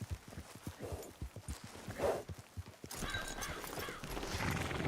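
Steady clip-clop of horse hooves trotting over the ground in the video game Red Dead Redemption II Online through the first three seconds, then a busier mix of ambient noise with faint tonal sounds.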